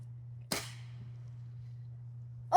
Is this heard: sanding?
no